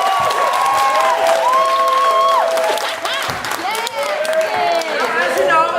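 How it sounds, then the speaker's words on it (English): An audience gives a round of applause mixed with cheers and whoops, loud and continuous throughout, while voices shout and talk over the clapping. "Give them a round of applause."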